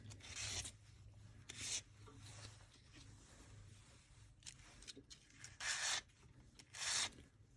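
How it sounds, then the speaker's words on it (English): Sandpaper rubbing insulation off wires while assembling an epee blade's grip and guard: several short, bright scraping strokes, close and fairly quiet, separated by pauses. "Take insulation off of these wires. I like to use a piece of sandpaper."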